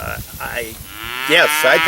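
Cows on a small local farm moo loudly and close by, with several drawn-out, wavering calls that overlap and rise toward the end over a low, steady background hum.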